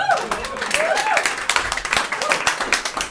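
A comedy club audience claps in a brief, uneven burst of sharp hand claps that rises and fades, while a stand-up comic keeps talking over it.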